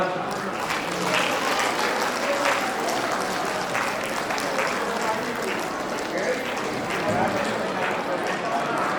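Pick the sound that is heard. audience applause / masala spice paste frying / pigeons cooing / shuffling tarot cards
audience applause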